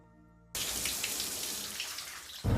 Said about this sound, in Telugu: వాటర్ ఆపేస్తావా